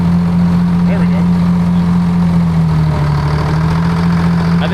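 A 1940s crane engine runs with its clutch slipping after sitting for over ten years, a loud, steady low drone with a constant hum that continues unbroken throughout.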